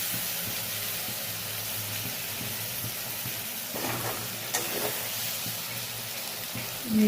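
Mustard paste and green chili paste fry in hot oil with a steady, fairly faint crackling sizzle, with a few brief stirring clatters near the end and no talking.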